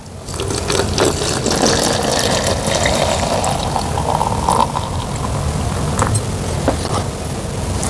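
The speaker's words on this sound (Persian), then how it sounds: "آب بهش اضافه میکنیم." Water poured into ground walnut powder in a shaker, a steady splashing and gurgling fill running close and continuous for several seconds.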